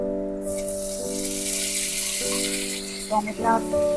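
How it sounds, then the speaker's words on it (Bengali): Tomato and onion fry in a pan, a steady sizzle running under a voice as she talks, with a few clinks of utensils near the end. "টমেটোটাও পেঁয়াজের সাথে ভেজে নেব।"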